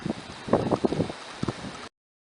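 Wind gusting hard on a windy day with racing pigeons in flight, buffeting the microphone in irregular rough bursts that rise and fall over a couple of seconds, then cut off.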